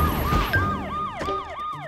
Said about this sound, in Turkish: Yangın alarmı çok gürültülü.